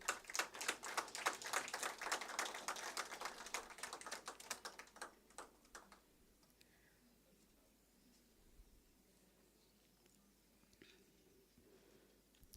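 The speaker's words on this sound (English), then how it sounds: "Join me in welcoming her with a hand clap." An audience claps to welcome Susan Nyasinga, Director of Kenya Prison Services, at a MINDFEST event in Mombasa: a dense burst of many hands for about six seconds, then fading to a quiet room with scattered faint sounds.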